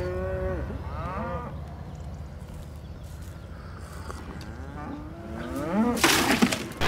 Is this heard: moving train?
no